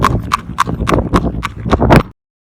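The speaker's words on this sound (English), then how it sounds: "this is a very common gait, and it's very easy for the horse to do" Rhythmic clip-clop of a trotting horse's hooves, about eight even beats in quick succession, close and clear before stopping abruptly.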